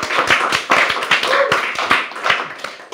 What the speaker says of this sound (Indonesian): Boleh tepuk tangannya dong teman-teman